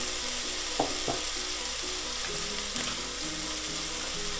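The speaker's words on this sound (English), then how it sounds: "So we'll just give these a bit of a stir, just to coat them in the fry light as well." Chopped onions fry in spray oil in a pan with a steady close sizzle, and a few clicks and scrapes come through as they are stirred.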